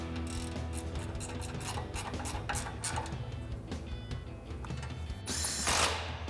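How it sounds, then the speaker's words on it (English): Rapid mechanical ratcheting clicks from an 8mm ratcheting wrench tightening front bumper bolts on a Ford Bronco, in quick bursts, close by, with a louder whirring burst of an impact tool near the end and no talking. "again using our 8mm ratcheting wrench for our upper bolts"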